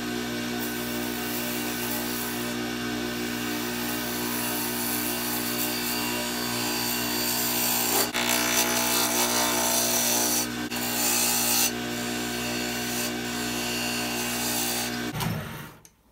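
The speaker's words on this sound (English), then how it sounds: "The tool's sharp, but I'm going to sharpen it up anyway." A woodturning tool is sharpened on a grinder, making a continuous loud whirring hum with gritty rubbing of steel against the wheel that stays steady for about fifteen seconds before winding down.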